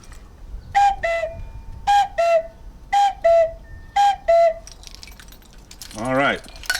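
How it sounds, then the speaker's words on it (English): A wooden cuckoo whistle of the kind used in Haydn's Toy Symphony sounds four clear two-note cuckoo calls in an even rhythm, loud and close, followed by a brief warbling slide. "Now we have the cuckoo whistle from Haydn's Toy Symphony"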